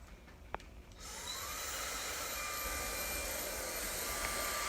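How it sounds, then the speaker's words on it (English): Hair blow dryer switching on after a brief click and then running with a loud, steady whooshing roar while hair is styled with a comb. "along with my blow dryer."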